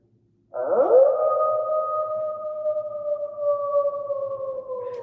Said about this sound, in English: this moon app is fun too because you can make the wolf howl. So, okay, wolf howl.